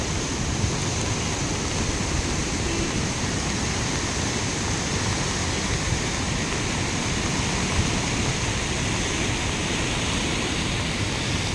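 Floodwater rushes through town streets during heavy Tamil Nadu rain, a steady, dense broadband roar that stays loud and unbroken throughout, like a torrent, with no voices.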